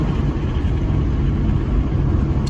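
A car exhaust with the muffler and resonator deleted gives a loud, continuous, deep engine rumble close by, holding steady with no pauses.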